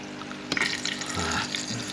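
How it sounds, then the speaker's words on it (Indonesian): Water gushes out through the backwash valve of a mechanical drum filter tank in a tilapia recirculating aquaculture system, a steady close rushing and splashing flow with no talking. "pembuangan secara berkala melalui keran backwash ini. Jadi kita secara berkala kita buang, kita buka ini."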